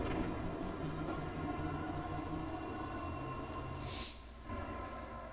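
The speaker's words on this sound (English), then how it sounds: "And then just jump onto the train, like directly on it." Train rumble from the Winter Express in the Apex Legends video game: a steady low mechanical drone with rhythmic clatter that holds through the whole stretch, plus a brief hissing burst near the end. No one speaks.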